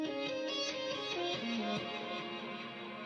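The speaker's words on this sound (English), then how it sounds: "I gave it some reverb from the Eventide Black Hole and some delay from Valhalla Delay" Reversed guitar drenched in Eventide Black Hole reverb and Valhalla delay, a dense swelling wash of sustained tones with gliding pitches that hold steadily loud across the whole stretch, with no voices.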